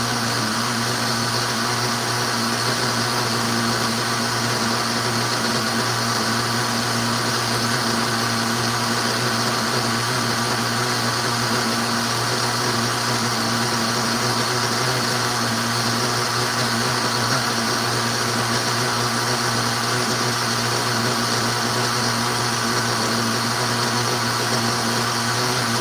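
O'Donnell ZO1B RC engine running steadily at a constant high-pitched buzz, near and loud, with no breaks across the whole stretch.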